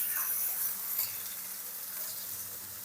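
Chopped onion and green chili fry in a hot pan, giving off a steady, close hiss of sizzling oil that holds evenly throughout with no voices.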